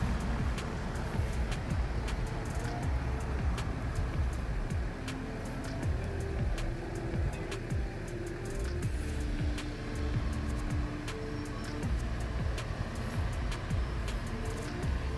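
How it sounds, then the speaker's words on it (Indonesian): A PMH intercity bus from Dumai bound for Siantar pulls into the Binaria roadside restaurant at night, its engine a steady low rumble amid continuous traffic and idling-vehicle noise, with no talk over it. "Oh, ini masuk bus PMH"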